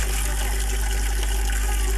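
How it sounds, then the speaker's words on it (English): Water running steadily from a village pipe in Nepal, a continuous broadband gush with a low hum beneath, close and fairly loud throughout. "The water comes intermittently from this pipe."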